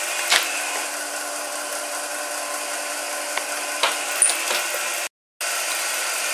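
Bechler Simplex gear cutting machine running with a steady mechanical whir and hum, punctuated by occasional ticks and clacks of moving parts, briefly dropping out near the end.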